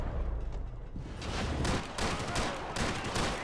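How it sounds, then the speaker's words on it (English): Gunfire in the Max Payne 3 video game: dense overlapping bursts and booming shots, loud and continuous, forming a chaotic firefight with no pauses. "Nice shots there, Nos."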